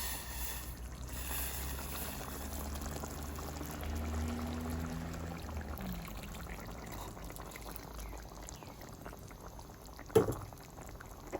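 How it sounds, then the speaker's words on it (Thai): Soup broth is poured into a pot of noodle soup with pork and fried egg, a soft, faint liquid wash over several seconds, followed by a brief knock near the end. "แค่จะเติมน้ำซุป ไปอีกหน่อยนะครับ"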